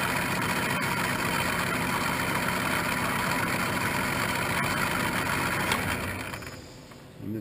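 A South Bend CL187RB 10-inch by 32-inch tool room lathe running in back gear gives a steady, even mechanical hum and whir, close and unbroken, until it winds down near the end.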